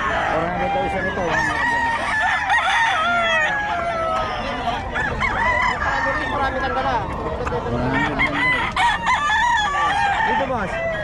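Chickens cluck and a rooster crows amid a busy crowd, with people talking nearby and several birds calling over one another.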